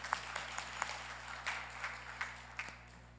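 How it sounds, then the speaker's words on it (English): Applause from an in-person audience at a Chugach Electric annual meeting, a thin, quiet patter of scattered claps with a few sharper individual hits over a steady low hum in the room. "Yeah, I'll clap for that."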